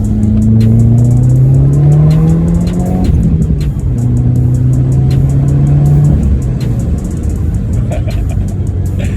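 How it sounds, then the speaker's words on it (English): Subaru WRX engine revving loudly at close range, rising through two long sweeps with a drop between them over a deep exhaust rumble. "let's give this Sub a little bit of gas here"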